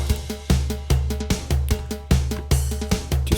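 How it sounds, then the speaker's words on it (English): A drum kit plays a steady four-to-the-floor beat: punchy bass drum on every beat, snare hits and a hi-hat on top. The pattern repeats in a tight, driving loop with no voices. "so I've just added this drum kit down the bottom and it sounds like this"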